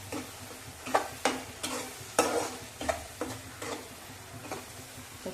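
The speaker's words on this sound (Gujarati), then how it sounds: "હવે એને પણ મસ્ત રીતે સાંતળી લેવાનું છે." Potatoes for dum aloo sauté in a pan, with soft sizzling under repeated scraping strokes of a spoon, roughly one every half second. The stirring is close and fairly quiet, with no voices.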